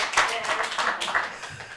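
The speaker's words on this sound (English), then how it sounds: "Yes, you can clap." Audience clapping at a Hanukkah menorah lighting held at Holyoke City Hall, a short spell of scattered applause under indistinct voices.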